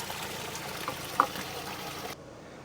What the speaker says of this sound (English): Take this off and then all the water is going to fall out of the filter.